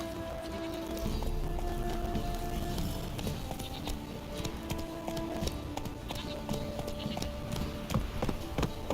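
The horse Roach gallops in The Witcher 3 video game, a fast, steady clip-clop of hooves that runs continuously and prominently throughout, with no talk over it.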